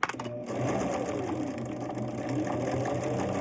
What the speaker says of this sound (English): if you feel like you need to backstitch, absolutely backstitch.